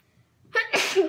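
A single sharp sneeze, close and loud, preceded by a brief quick inhale, then a burst of noisy breath.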